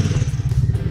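A 110cc pony bike engine runs close by with a rapid, even low thumping idle, loud and steady over a brief moment.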